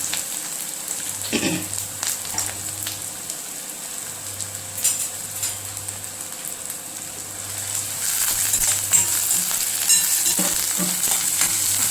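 Chopped onion and green chillies sauté in hot oil in a pan for brinjal bharit, a steady close crackling sizzle with occasional stirring scrapes that grows louder near the end.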